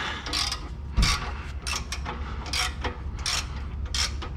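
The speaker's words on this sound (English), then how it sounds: "And then we'll lift the transmission jack up a bit." A transmission jack being raised under a Pontiac GTO during driveline work, giving a series of rhythmic ratcheting clicks and mechanical creaks from a pumping handle, close and clear with no talking.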